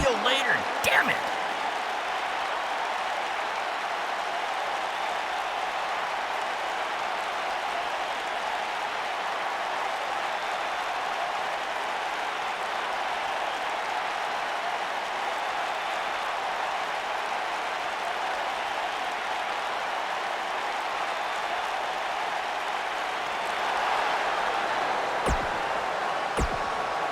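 A live crowd in the wrestling video game WWE 2K19 keeps up a steady, wash-like applause and murmur throughout, with a few louder sharp peaks at the start and near the end.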